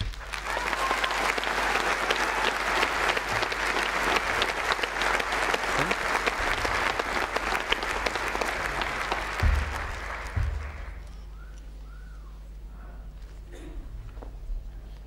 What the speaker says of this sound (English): I wonder if you could join me in one final round of applause for all our graduates today.